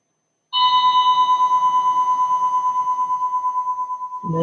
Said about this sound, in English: And there's the gong